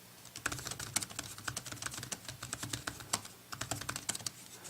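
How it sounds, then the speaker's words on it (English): Steady, fairly quiet typing on a MacBook Air 11-inch keyboard fitted with a Rearth Verco keyboard cover, rapid soft key clicks in uneven bursts with no voices. "let's go ahead and start typing to see how this sounds"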